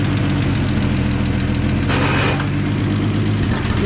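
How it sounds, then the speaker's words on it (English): A sawmill engine runs steadily with the PTO engaged and the blade turning, a loud, continuous low rumble with a brief rise in higher-pitched noise midway and no pause. "You got your PTO engaged. All right. There we go. We have the blade a-turning."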